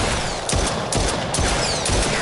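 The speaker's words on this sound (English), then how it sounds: "See if I can shoot him without aiming down the sights." Rapid gunfire from a VR shooter in The Brookhaven Experiment's survival mode, fired by an aim controller: a dense, loud burst of shots running throughout with sharp cracks recurring about every half second and no voice.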